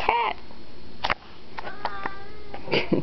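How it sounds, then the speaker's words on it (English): A house cat meows several times in short, close, loud calls, with a child's brief vocal sounds and some sniffing or rustling between them. "It's a cat!"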